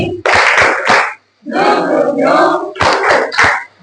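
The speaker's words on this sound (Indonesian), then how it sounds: "Oke, kita mulai. Tepuk semangat." A group claps out a rhythmic spirit cheer in bursts of sharp hand claps, mixed with loud chanted voices and a sustained sung or shouted stretch in the middle.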